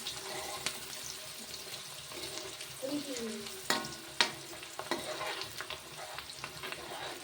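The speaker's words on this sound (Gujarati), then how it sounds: "સરસ આપણે ડુંગળીનો વઘાર થઈ ગયો હા ડુંગળી ચડી જાય ને પછી આપણે એમાં નાખવાનો છે બીજો મસાલો" Chopped onion tempering in hot oil in a pan, sizzling steadily at close range with a few sharp clinks and scrapes of stirring, alone without talk.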